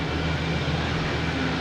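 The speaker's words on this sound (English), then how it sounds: "We have a banana plane, Spirit, Alaskan Air, Cape Air, making all the racket here." Airliners taxi at Boston Logan Airport, a steady loud roar of jet engines with low droning hum, continuous and unbroken, with no one talking.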